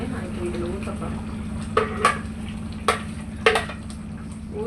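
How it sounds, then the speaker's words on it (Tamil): A thick cashew and yogurt paste is poured into a pan in a home kitchen, with a few sharp spoon-on-metal clinks and scrapes over a steady background hum. "இந்த கலவையை நான் இப்போ இதில் ஊற்ற போகிறேன்."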